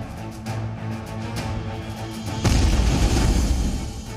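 An IED blast in a valley in Bandipora, Jammu and Kashmir: a heavy, rumbling blast hits partway through, its deep low-end roar swelling over a steady background drone and lingering for a couple of seconds.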